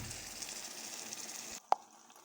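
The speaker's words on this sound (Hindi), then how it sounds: "तकरीबन 5 मिनट हल्की आंच पे पकाएंगे।" Okra and potato curry cooks on low heat with a soft, steady sizzle in the pan. The sizzle breaks off into near silence, followed by a single small plop.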